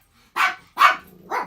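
Pet dogs indoors let out three sharp, loud barks spaced about half a second apart, the last slightly softer, with a quiet room around them.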